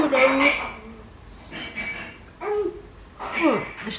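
Dishes and cutlery being unloaded from a dishwasher in a family home, with scattered clinks and clatter of crockery and silverware under children's voices chattering nearby.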